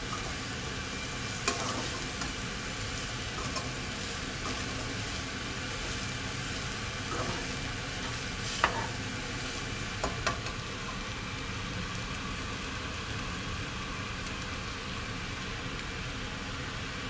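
Chicken egg fried rice fries and is stirred in a pan, giving a steady low sizzle with a few faint utensil scrapes and taps at scattered moments.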